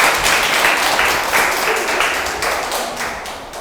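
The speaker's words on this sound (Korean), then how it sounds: "큰 박수 부탁드립니다." A lecture audience applauds at the opening of an evening science talk, a dense, steady wash of clapping that fills the whole stretch and fades slightly toward the end.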